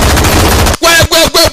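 Loud gunfire from a dubbed action film starts with a dense stream of rapid shots, then breaks into three or four separate heavy bursts of machine-gun fire.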